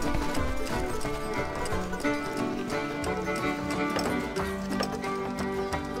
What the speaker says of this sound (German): Auf die Pferde!